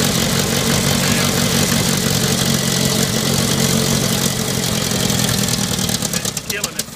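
A Farmall Cub tractor engine idles roughly with a carburetor fault, a loud, steady close-up chug that runs throughout, with voices talking over it and the rhythm breaking into uneven pulses near the end.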